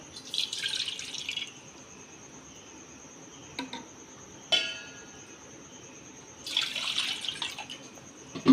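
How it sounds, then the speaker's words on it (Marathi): Two cups of water are poured in two short bursts, splashing into a vessel for modak dough, with a steady high insect-like whine and a couple of clinks in between. "दोन वाटी पाणी घालणार आहोत"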